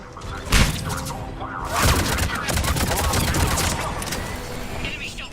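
Gunfire rattles in the video game Mass Effect 3 as a checkpoint comes under attack: loud bursts of automatic fire and impacts mixed with voices calling out during combat.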